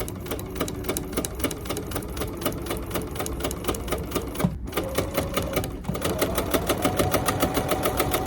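A sewing machine stitches a handmade needle roll in rapid, even bursts, backstitching, pausing briefly twice before running again slightly louder and faster.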